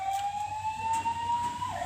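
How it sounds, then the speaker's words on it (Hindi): An ambulance siren wails as a single steady tone that climbs slowly in pitch, moderately faint and somewhat distant over low background rumble, with no one talking. "जैसे एम्बुलेंस की आवाज़ आई"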